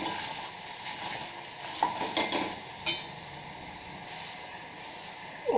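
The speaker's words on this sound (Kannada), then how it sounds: "ಚೆನ್ನಾಗಿ ಮಿಕ್ಸ್ ಮಾಡಿ 1 ನಿಮಿಷ ಈ ರೀತಿ ಫ್ರೈ ಮಾಡ್ಕೊಳ್ಳಿ." Wild mango masala mixture frying in a pan while being stirred, a steady sizzling hiss with occasional scraping clinks of the utensil against the pan, close and alone.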